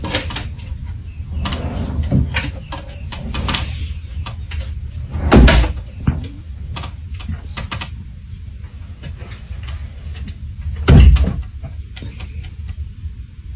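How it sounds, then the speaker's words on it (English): A cat pushing drawers open and closed: a stream of small wooden knocks and rattles, with two heavier, louder thuds as a drawer slams shut, heard alone against a quiet room. "From its cozy hiding spot, the cat had been pushing the drawers open and closed."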